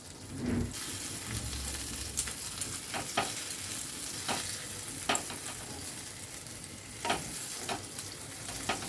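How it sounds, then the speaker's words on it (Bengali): A flour snack frying in oil while being turned with a ladle and spatula: a continuous close sizzle with several sharp scraping clinks of the utensils against the pan scattered throughout. "এবার আমি একটা হাতা আর একটা খুন্তির সাহায্যে উলটপালট করে দিচ্ছি, যাতে ওপর পোর্শনটাও ভাজা হয়ে যায়"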